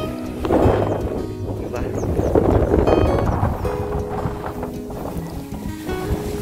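Strong wind sweeps across open farmland lined with coconut palms, roaring and buffeting loudly against the microphone in a continuous, gusting rumble.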